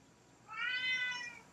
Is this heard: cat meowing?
yes